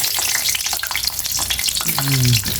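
Eggplant sizzles and crackles hard in hot oil in a frying pan, a dense close spatter that runs throughout, with a brief tonal scrape or squeak near the end.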